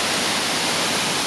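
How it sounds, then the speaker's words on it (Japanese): A small waterfall in a park rushes steadily, a dense, even roar of falling water that stays constant throughout with no voices or other sounds. "ちょっとした滝みたいな感じでダーッと行ってますね。"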